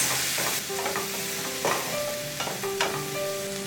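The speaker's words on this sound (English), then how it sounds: "We'll mix it well and we'll cook for 1 to 2 minutes." Poha with boiled kabuli chana is stirred and fried in a hot pan, steady sizzle under repeated scraping strokes of a spoon, close and clear with no talk.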